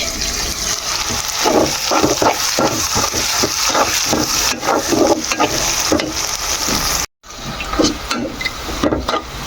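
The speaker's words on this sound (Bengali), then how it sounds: "তো পেঁয়াজ ভাজা হয়ে গেছে" Onions frying in a pan, with a loud, continuous sizzle broken by rhythmic scraping and stirring strokes, a brief dropout near the seven-second mark, and the sizzling resuming afterward.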